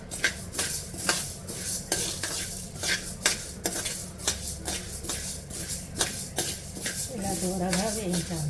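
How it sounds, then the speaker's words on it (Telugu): Urad dal being dry-roasted in a kadai on a stove: a spatula scrapes and clinks against the metal pan in a steady rhythm over a light sizzle, with a voice speaking near the end. "స్టవ్ ఆన్ చేసి కడాయి పెట్టి అందులో మినపప్పు వేసి దూరగా వేయించాలి."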